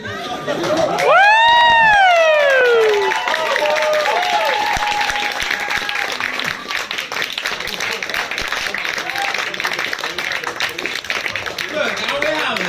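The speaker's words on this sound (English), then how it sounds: "Biggest round of applause we've had tonight" A loud, sustained burst of audience applause and cheering fills the room at a comedy roast, a voice briefly whooping over the clapping before it settles into steady applause.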